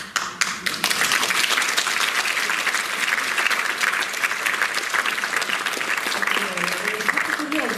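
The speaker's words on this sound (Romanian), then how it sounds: "Acum, aplaudând," Audience applause fills a Romanian poetry reading, dense steady clapping starting after a brief moment and holding loud and continuous throughout.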